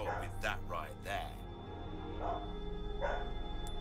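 A household dog barks a few times near a gamer, short sharp yaps clustered together before trailing off, with a voice talking in the room.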